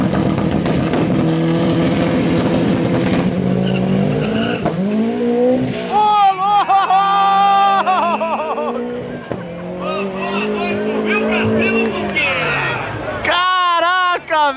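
A rusty VW Beetle with a turbocharged Golf engine launches down a drag strip, its engine snarling through rising rev sweeps between gear changes, loud and close, with tire screech and voices around it.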